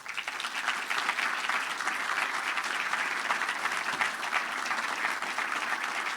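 Sustained applause from a crowd at an Army health service anniversary ceremony, dense steady clapping that holds at an even level from start to finish.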